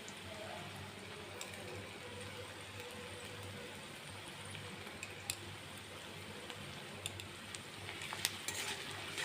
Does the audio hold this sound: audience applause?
no